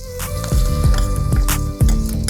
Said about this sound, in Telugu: తాలింపు తీసి పోసేద్దాం.